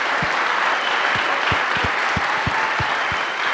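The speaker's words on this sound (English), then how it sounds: "How about a final round of applause for all of our speakers?" A conference audience at the SCaLE 15x open source event gives a final round of applause for the speakers: dense, steady clapping from a large crowd, loud and sustained throughout.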